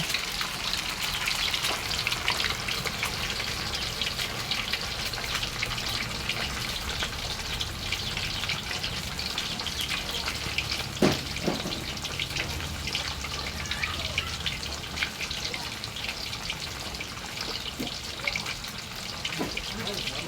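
Fish fries in a pan of hot oil, giving a steady, dense sizzle that crackles without a break for about twenty seconds, with a few sharper pops standing out.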